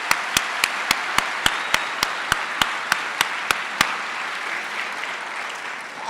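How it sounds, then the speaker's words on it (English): Applause for graduates at a university honors cording ceremony: a steady crowd clapping with sharp, evenly spaced loud claps standing out over the first few seconds, then fading into a softer continuous patter. "round of applause of congratulations to our graduates"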